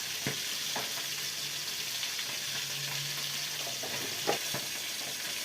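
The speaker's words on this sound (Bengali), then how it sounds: "অল্প করে আদা আর এবং একটা ছোট্ট পেঁয়াজ দিলাম বন্ধুরা" Ginger, a small onion, coriander and cumin sizzling in oil in a pan, a faint even hiss with a few soft spatula scrapes and taps spaced far apart.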